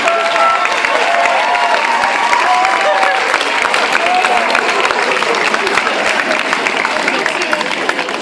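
A school leavers' assembly crowd applauds a teacher, a steady dense wash of clapping that holds loud throughout, with some voices mixed in.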